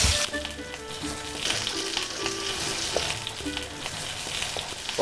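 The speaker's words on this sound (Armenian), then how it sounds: "Մեր տակդեղը տապակվում է" Hot peppers fry in a pan for a home-cooked Armenian dish, giving a steady, dense sizzle with crackling throughout, close and fairly loud.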